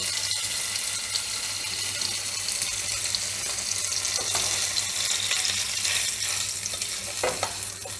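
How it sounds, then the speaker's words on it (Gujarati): Paneer pieces shallow-frying in a pan give a steady, dense sizzle that runs throughout, with a few light clinks near the end and no talking. "આ રીતે આપણે બધું પનીર ફ્રાય કરી લઈશું"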